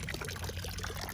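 Water pouring and trickling steadily from a trailside water source on a mountain hike, a close, continuous splashing flow with no pauses.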